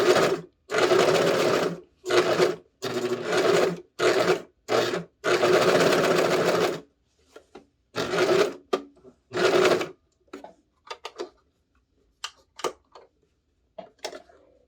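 Industrial sewing machine stitching skirt fabric in bursts of steady running, with short stops where the presser foot is lifted and the fabric pivoted; after about seven seconds the runs turn shorter and sparser, with faint clicks between them.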